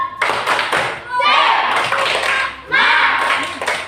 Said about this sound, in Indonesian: Semangat ya, coba. Tepuk semangat.